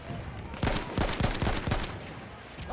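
Rapid gunshots crack in bursts during an online shooter game, several close shots in a quick cluster followed by sparser fire, with steady game background noise.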